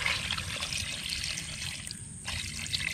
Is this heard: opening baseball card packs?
no